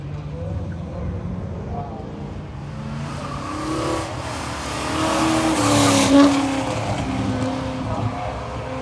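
A Ford car corners hard at the NMRA Ford Fest in Bowling Green, Kentucky, engine revving under rising tire squeal that peaks in a sharp screech, with crowd chatter around it.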